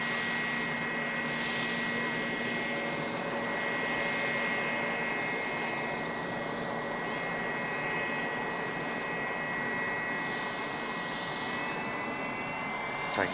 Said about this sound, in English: Bombardier Challenger, oh, it's a NetJets. Bombardier Challenger 350.